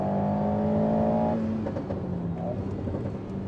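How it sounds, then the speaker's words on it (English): Alpine A110 sports car in sport mode, its engine revving with a steady tonal drone that shifts pitch as it accelerates, heard from inside the cabin with some road whir. "this car sounds awesome"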